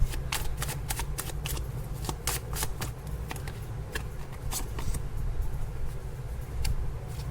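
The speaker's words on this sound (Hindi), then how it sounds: "चलो मैं कुछ कार्ड्स निकाल देती हूँ फिर बताती हूँ।" Tarot cards being shuffled by hand during a reading, a dense run of quick riffling flicks and papery slaps, close and continuous for several seconds.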